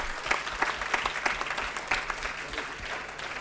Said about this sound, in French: On peut vous applaudir encore une fois.